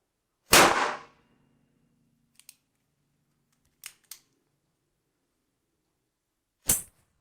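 A single loud gunshot from a Chiappa Rhino 60DS revolver fired single-action, a sharp close blast with a short ringing tail, followed later by a few faint mechanical clicks and another sharp crack near the end.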